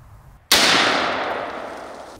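A single loud shot from a .458 SOCOM rifle fired outdoors at a Boston butt target cracks after a short quiet lead-in, then a long echo slowly fades away.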